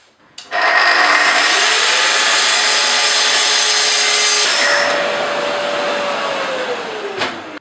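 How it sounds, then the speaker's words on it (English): Router fitted with a CMT glue line cutter trimming solid oak edging on oak-faced MDF, spinning up into a loud, close, steady high whine while cutting, then easing to a lighter spin-down with no talking. "We use a special riser cutter called a glue line cutter, and mine is made by CMT."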